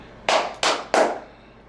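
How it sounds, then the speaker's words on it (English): Three sharp, close hand claps ring out in quick succession in a quiet room at the start of a podcast recording, each with a short echoing decay. "Clap."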